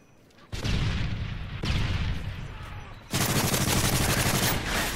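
Heavy gunfire erupts during an online Call of Duty-style multiplayer match: dense bursts of automatic fire begin abruptly, ease briefly and then return louder and sustained, close and continuous.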